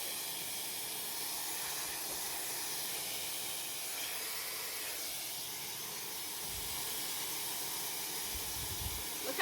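A hair dryer blows in a steady, loud, unbroken hiss of rushing air for the whole stretch, with no one speaking.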